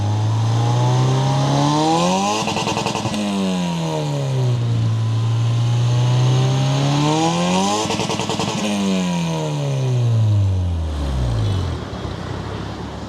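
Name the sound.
car engine revving through remote-controlled exhaust system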